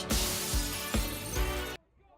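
Glass crashing and shattering in a paint and glass shop advertisement, loud repeated breaking impacts over about two seconds that cut off abruptly into near silence.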